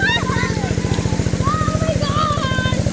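A motorcycle engine idles close by with a steady, rapid pulsing throb beside rice fields in Camarines Sur, while voices or birdsong chatter faintly over it throughout.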